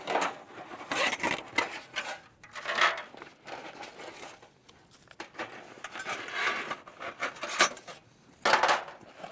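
Metal parts of a tent stove handled during setup, giving irregular clinks, scrapes and hollow knocks of thin metal pieces, close by and moderately quiet, with pauses between bursts of handling.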